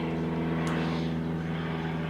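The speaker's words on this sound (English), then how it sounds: "Bloody aeroplanes." Propeller aeroplane droning steadily overhead, a continuous low engine hum that swells slightly and holds at moderate loudness throughout, with no talking.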